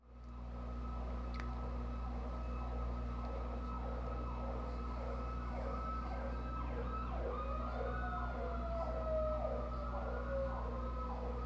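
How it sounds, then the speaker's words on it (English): A fire truck siren wails continuously, its tone sweeping up and down in a steady repeating pattern, moderately distant and loud over a constant low engine hum, shifting in pitch near the end as the truck passes by. "oh my god, dramatic fire truck"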